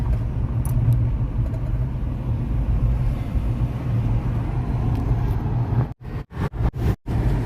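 A car drives along a road in India just past a toll plaza, with steady engine and tyre rumble filling the cabin, followed by a few sharp dropouts near the end.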